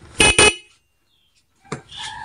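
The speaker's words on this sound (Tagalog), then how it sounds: "tutunog yung ating stock horn." Two short blasts from a car's stock horn, pressed twice in quick succession, followed by a pause and a third brief honk.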